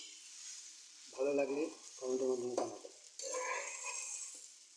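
Beef and eggs fry in a pan at home, with a continuous, close hiss of sizzling oil. Stirring runs through it, and short vocal sounds rise briefly over the frying.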